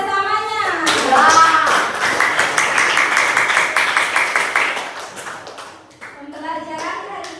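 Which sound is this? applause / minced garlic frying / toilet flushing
applause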